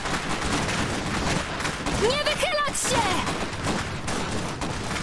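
Gunfire in the video game Iron Harvest, a battlefield of rapid shots and fusillades under a shouted command, with other sound effects rising briefly mid-clip.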